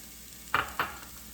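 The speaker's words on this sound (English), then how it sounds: "I'm going to first put the garlic. I have 3 tablespoons of oil there." Garlic dropped into three tablespoons of hot olive oil for a curried chicken wing stew, two quick sharp sizzling bursts followed by a faint steady frying hiss.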